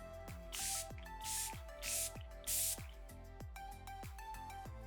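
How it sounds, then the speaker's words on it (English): Four soft hissing sprays of setting spray from a small mister bottle, close by and evenly spaced, over a steady background of music. "So I do like to use a setting spray before my mascara."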